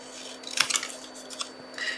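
Scissors snipping through card stock during card-making, a short cluster of crisp close cuts followed by a brief rustle of paper in a quiet room.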